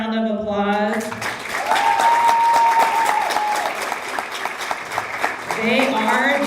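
A crowd at a student leadership recognition ceremony gives the award winners a loud, sustained round of clapping, with a voice speaking over the start and end of it and a faint whistling tone in the middle.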